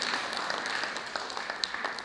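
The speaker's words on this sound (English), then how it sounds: "Big round of applause for them too" Audience applause at a Filipino community event honoring sponsors, a steady, fairly faint wash of many hands clapping with scattered sharper claps, continuous through the moment.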